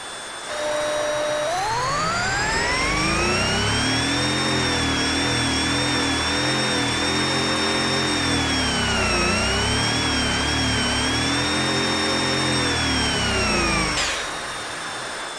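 Supercharged quad-turbo engine in the Automation car game cranking and firing up, then revving in a loud, steady whine that climbs and dips for several seconds before cutting off.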